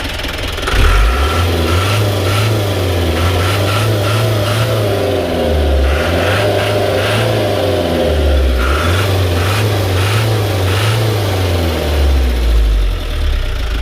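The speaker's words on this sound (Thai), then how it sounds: "มามาลองฟังเสียงเครื่องครับ เดี๋ยวผมเร่งให้ดูครับ" An engine started for the first time after ten years parked revs repeatedly, its pitch climbing and falling in several loud sweeps over a steady idle, close by with no talk.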